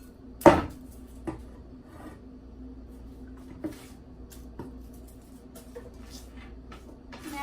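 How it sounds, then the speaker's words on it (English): Knife chopping onion and garlic on a board for Lao-style chili oil, a few separate thuds: one firm chop near the start, then scattered softer taps, with faint kitchen background and no talking. "Make like this, you can chop it up a little bit."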